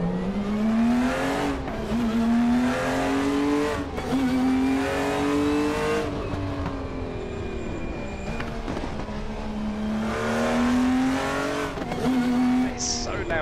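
M1 race car engine in the RaceRoom racing game, revving up and down through gear changes in a steady rising-and-falling drone that stays loud throughout, with someone talking over it.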